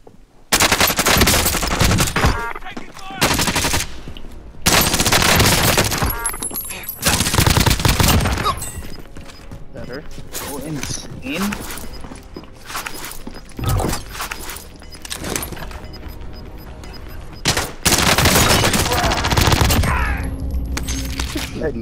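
Heavy automatic gunfire rattles through a video game survival mission, with long loud bursts broken by short pauses and a few quieter stretches, while players talk now and then.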